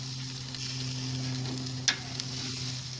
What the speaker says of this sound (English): we're going to turn the asparagus, and this is how I turn the asparagus, folks